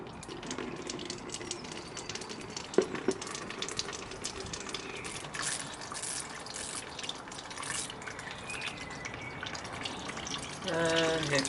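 Coolant drains from a Honda CRF250L motorcycle into a catch container as a steady trickling, splashing stream of liquid, close and fairly faint, with some wind noise and brief talking.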